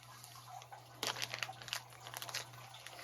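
HobbyPark parts in a Ziploc plastic bag are handled up close, with soft crinkling and rustling bursts that grow busier and louder partway through over a faint steady hum.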